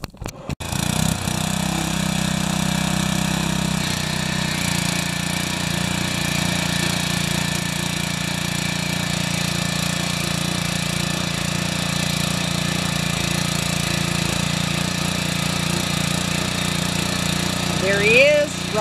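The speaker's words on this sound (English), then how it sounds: "There he is, running his rotor tiller after he's done his repair." A repaired Stalwart rototiller engine runs steadily and loudly close by for the whole stretch, a continuous mid-pitched chugging drone that starts abruptly and barely changes, with a brief rising whine near the end.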